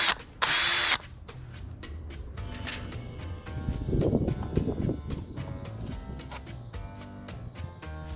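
A power drill fitted with a drill bit bores holes into plastic containers for an aquaponics or hydroponic garden, starting with a brief loud whine, then a longer, rougher grinding bite through the material, close up and alone.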